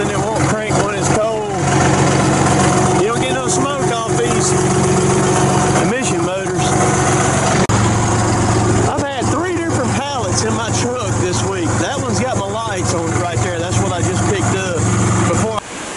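A vehicle engine cranks over cold in a shop and catches, then settles into a steady, loud idle with a throbbing low rumble, while someone talks over it throughout.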